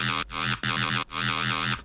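A synthesized chime plays a short melodic figure with bright sustained harmonic tones broken by brief gaps, its notes trailing into a light room reverb.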